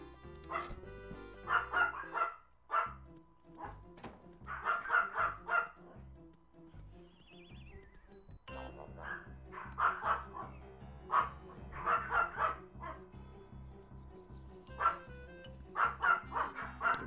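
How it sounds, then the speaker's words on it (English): Dogs bark repeatedly in Toontown Corporate Clash, short yapping bursts in irregular clusters over game background music and ambient sound, fairly quiet throughout with no talking. "Dogs barking. If you hear that,"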